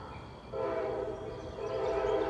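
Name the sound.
K5LA train horn on freight train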